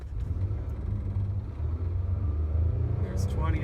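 Lexus RX330 AWD driving through fresh snow, a steady low engine and road rumble inside the cabin with a voice talking over it.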